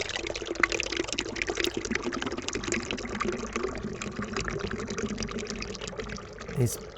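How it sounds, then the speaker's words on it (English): Steady water runs and trickles, continuous and fairly close, dubbed in as a sped-up version of dripping water, with a faint voice in the background. "He's put in fake water sound here"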